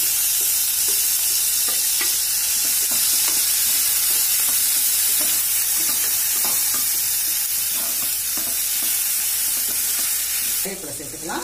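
Shallots fry in a pan for paruppu urundai kuzhambu with a loud, steady sizzle, while a spoon scrapes and stirs repeatedly through them and a louder clatter comes near the end.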